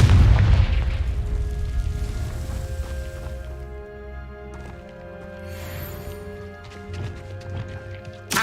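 A Confringo fire spell blast in Hogwarts Legacy, a loud booming burst at the start that decays into a ringing tonal tail, followed by softer magical shimmers and scattered clicks with a faint hum beneath, no talking.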